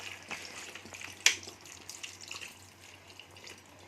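Water is poured into a pan of Odia vegetable curry (santula), a soft, continuous splashing trickle with faint droplet taps and light kitchen clatter, heard close and fairly quiet with no talking.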